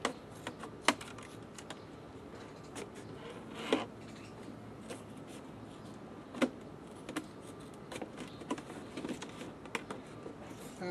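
Short scissors snipping through a plastic gallon planter, giving a string of sharp, irregular clicks and snaps at close range over quiet room tone, with no talking.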